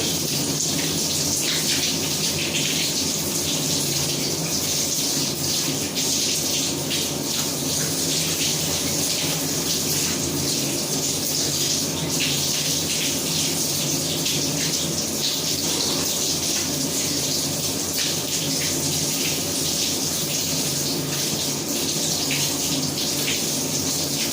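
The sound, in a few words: water running from a tap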